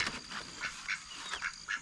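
Ducks and geese on a farm call in a string of short honks and quacks, several spaced repeated cries at moderate distance with no talk.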